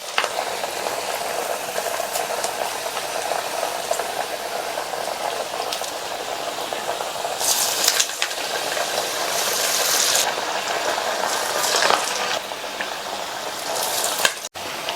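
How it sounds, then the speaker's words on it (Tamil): Lentil vadas deep-frying in hot oil give a loud, continuous, close bubbling sizzle that holds steady throughout, with a few brief brighter bursts and a sharp knock near the end. "ஒவ்வொரு வடையாக எண்ணெயில் சேர்த்துடலாம்."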